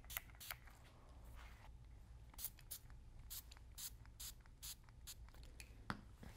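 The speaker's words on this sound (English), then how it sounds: "And just spray that right on top." Marabu acrylic art spray hisses from a can over a stencil on paper in short, sharp bursts, a dozen or so quick sprays close by, separated by brief pauses in a quiet room.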